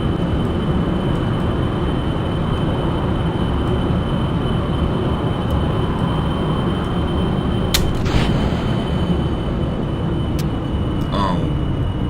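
A space plane flying in Kerbal Space Program gives a steady, loud, dense engine and wind roar that holds unbroken throughout, with a couple of faint clicks near the end and no voices.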